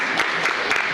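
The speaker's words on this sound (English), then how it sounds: "Yeah, that's worth a round of applause." Brief burst of audience applause at a commissioners court session, a dense, fairly loud patter of many hands clapping close by.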